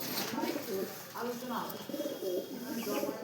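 A golden pigeon with clipped wings at a bird shop gives soft repeated coos under a man's speech, close and fairly quiet.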